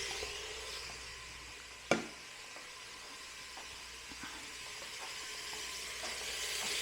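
Lamb chops sauté in an Instant Pot, a quiet, steady sizzling hiss, broken early by one sharp clack, with faint small pops scattered through.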